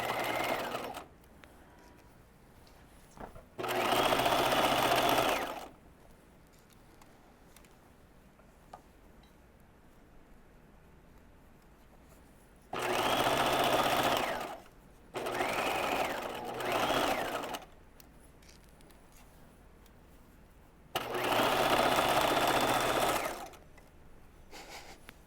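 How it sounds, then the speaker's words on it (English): A home sewing machine stitches around a curved trouser hem in four bursts of rapid, steady whirring, each lasting a couple of seconds, separated by quiet pauses with faint handling noises. "now we're going to keep stitching around the hem, going around that curve"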